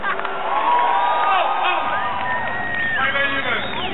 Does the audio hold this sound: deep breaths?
no